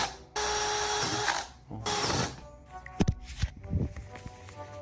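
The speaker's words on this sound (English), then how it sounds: "He's still using a fucking drill." An electric drill whirs in two loud sustained bursts inside a room, followed by clattering taps, thumps and handling noise.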